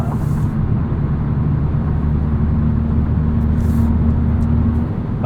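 A 2022 Hyundai Kona N drives along with a steady, loud engine drone and road rumble inside the cabin, holding a constant low tone throughout with no talking.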